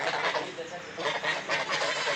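A flock of free-range village chickens clucks and squawks continuously nearby, a busy overlapping chorus with louder bursts now and then.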